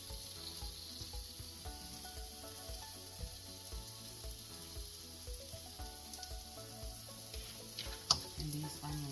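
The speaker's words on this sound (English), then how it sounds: "I'll put some butter in the cast iron skillet, and I'm gonna add my onions" Onions sizzling in butter in a cast iron skillet, a steady close hiss and crackle throughout with a faint music bed underneath and an occasional light scrape or tap, no voices.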